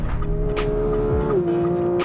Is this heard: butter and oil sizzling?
no